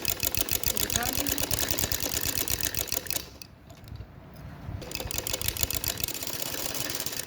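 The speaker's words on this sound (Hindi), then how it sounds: "तो हमने इसकी सिलाई शुरू कर दी।" A sewing machine stitches a kameez neckline with piping, running in a rapid, even mechanical rhythm, pausing for about a second and a half, then starting again.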